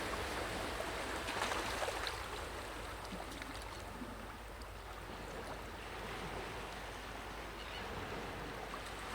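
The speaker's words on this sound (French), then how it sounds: "par le son des vagues" Steady surf on sand rushes and hisses continuously, a broad wash of ocean waves with no voices, fairly even in loudness throughout.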